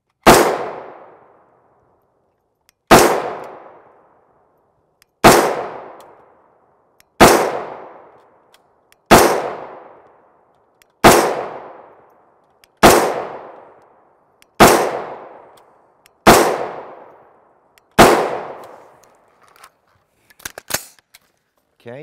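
Ten evenly spaced, sharp rifle shots of 5.56mm MK318 rounds from a 10.5 inch short-barreled rifle, each loud crack followed by a decaying echo, ending with a few faint clicks of handling.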